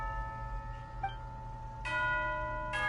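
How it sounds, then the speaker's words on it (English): A bell rings out in Genshin Impact as the tea-time signal, two bright, ringing strikes about a second apart over a soft ambient game backdrop with no talking. "You hear the sound of a bell."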